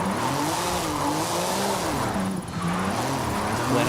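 A Porsche drifting in Forza Horizon 5, its tires squealing in a loud, sustained wavering whine over the steady roar of the engine, close and continuous throughout.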